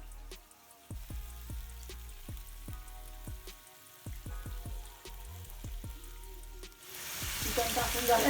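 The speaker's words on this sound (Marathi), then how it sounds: "तर आता आपण तवा ठेवला आहे, चिकन फ्राय करायला घेऊया." Chicken frying in oil on a flat griddle pan, a steady sizzle with repeated crackling pops and spits, growing louder and busier toward the end as more pieces hit the hot oil.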